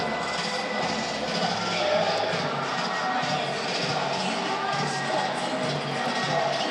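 A steady, loud hubbub from an excited arena crowd at a Taiwanese pro basketball game, Hsinchu Lioneers against Formosa Taishin Dreamers. The broad roar holds throughout with no breaks.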